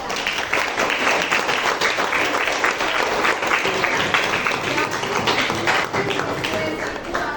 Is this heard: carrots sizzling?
no